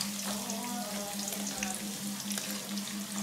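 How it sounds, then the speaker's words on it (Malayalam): Crushed garlic fries in boiling sunflower oil with a close, continuous sizzle and bubbling crackle, while a steady low hum runs underneath. "നമുക്ക് അതിലോട്ട് ഇനി ചതച്ച വെളുത്തുള്ളി ഇടാം."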